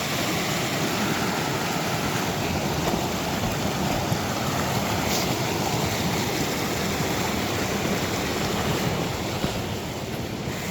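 A fast-flowing creek in the Colorado wilderness rushes as a loud, steady roar of turbulent water at close range, with some wind noise mixed in. No speech.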